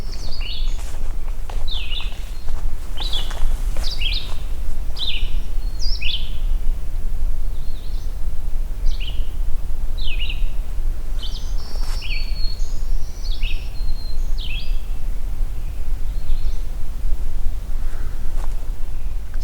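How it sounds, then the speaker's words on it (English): Black-throated green warblers and a talkative red-eyed vireo sing on an overcast morning, repeated short high phrases from several birds, moderately near, over a low rumbling background. "We got black-throated green warblers and very talkative red-eyed vireo here"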